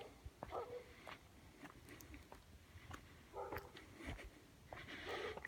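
A dog barks from behind a courtyard gate, several sharp barks spaced out over steady outdoor background noise, moderately distant, with no talk.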